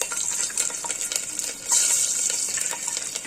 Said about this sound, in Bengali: মশলাটা ভাজা ভাজা হয়ে গেলে এবার আমি এর মধ্যে দিয়ে দেবো গোটা রসুন